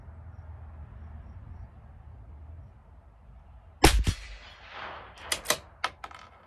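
A CZ 457 LRP rimfire rifle with an IBI barrel fires a single Eley Force .22 round at a 50-yard range, one sharp crack after a quiet stretch, followed by a few metallic bolt-action clacks.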